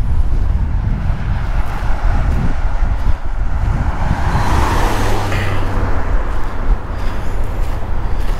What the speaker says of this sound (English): Hear the wind going through the trees.